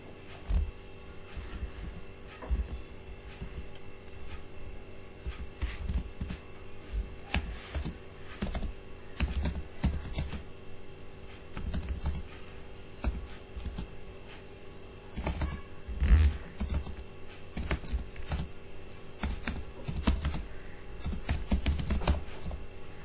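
Someone types on a computer keyboard in Google Docs, with irregular bursts of quick close key clicks and brief pauses running the whole way, fairly quiet, over a faint steady hum.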